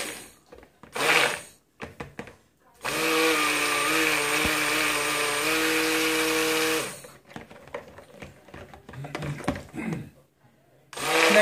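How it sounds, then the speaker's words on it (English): A steady electric whir from a stick blender mixing soap in a bowl runs for several seconds, starting and stopping abruptly between short bursts of clattering and handling noise. "tough to mix with my stick blender in this bowl"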